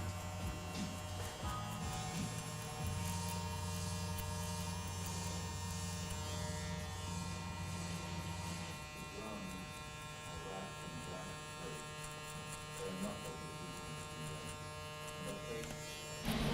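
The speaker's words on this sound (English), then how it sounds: "just detail with the clipper with no guard" An electric hair clipper without a guard buzzes up close while detailing a haircut in a barbershop, a steady loud hum whose pitch shifts partway through as the blade works the hair.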